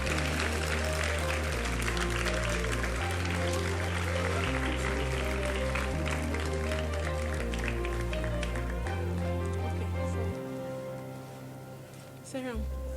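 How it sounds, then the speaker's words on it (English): Audience applause at a film festival, a dense sustained clapping over a steady low musical backing, fading slightly toward the end. "Please keep clapping for them."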